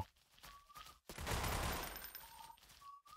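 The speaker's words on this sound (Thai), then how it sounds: "โอ้ยยิงกันดูเดือดมากเลยนะครับ" Dense gunfire bursts in the blocky first-person shooter Blockade 3D during a capture match, loud and continuous for over a second and then trailing off amid thinner game noise and occasional tones.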